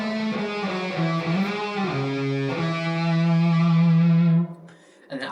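An electric guitar played through effects runs a sustained, distorted riff with chorus and echo, notes sliding and holding before cutting off near the end.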